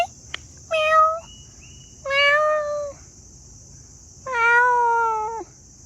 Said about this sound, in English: I don't understand this kitty.